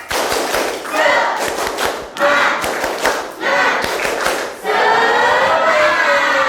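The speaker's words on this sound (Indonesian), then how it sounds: "Oke, kita mulai tepuk semangat" A school class doing tepuk semangat, a spirit cheer, with loud rhythmic group clapping in bursts while the pupils chant along together, close and energetic.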